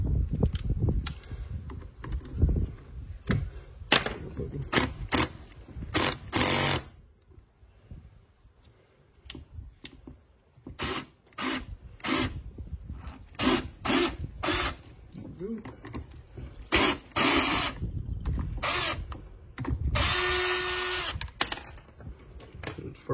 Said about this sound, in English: I'm gonna go ahead and get these two screws loose first